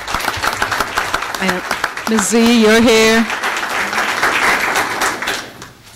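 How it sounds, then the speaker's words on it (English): Applause and clapping from an audience at a school board meeting, rising briefly under a near voice that speaks over the noise. "So let's give Manual a nice round of applause."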